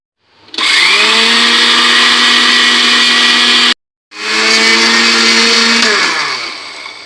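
Electric grinder whirring loudly as it grinds whole spices for chaat masala, starting up to a steady high whine, cutting off briefly, then running again before winding down.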